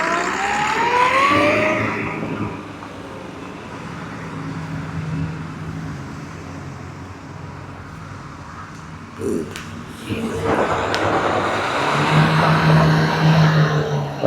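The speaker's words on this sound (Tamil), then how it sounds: "அது வண்டி பாருங்கள், ரிவர்ஸில் பறக்குது பாரு வண்டி" A Renault Duster car reverses fast across a lot of cars; its engine hums steadily at mid distance, with a louder surge near the end.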